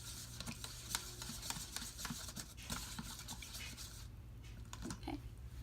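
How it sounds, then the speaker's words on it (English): A cheap paint brush mixing an acrylic paint pour mixture in a cup, with quiet, rapid swishing and tapping strokes in a steady rhythm, faint and close, and no talking. "So we're just going to mix this together."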